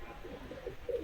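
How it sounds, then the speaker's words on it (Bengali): An Ablook pigeon coos softly, a faint low murmuring call over a quiet background in a short burst. "এই যে আবলুক পায়রা"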